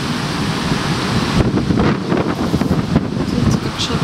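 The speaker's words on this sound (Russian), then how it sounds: "Видите, какой ветер?" Strong wind roars and buffets the microphone in a dense, rumbling rush, gusting harder partway through, shaking a balcony door at a country house.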